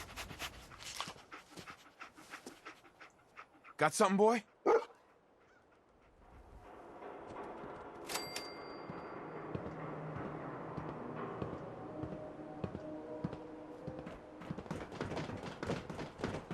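Dogmeat, the dog companion in Fallout 4, lets out a few sharp yelping barks in a quick burst, then pants in the background under game ambience; a voice speaks briefly near the start.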